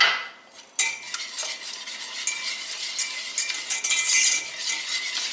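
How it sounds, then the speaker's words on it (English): Egg yolks whisked into lemon pie filling in a bowl, a quick, continuous scraping and clinking of the whisk against the bowl, close and fairly loud, with no talking. "Okay, then you whisk in 2 egg yolks"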